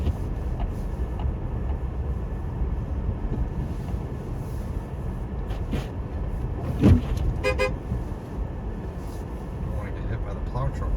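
A 2020 Chevrolet Bolt EV electric car drives through snow on a plowed Vermont winter road, giving a steady close rumble of tires and wind with a brief louder thump partway through and a few short tonal beeps.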